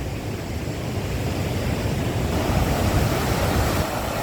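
Strong rushing water pours through a dam at a fishing spot in Arayat, Pampanga, a loud, steady, broadband roar filling the whole stretch without speech.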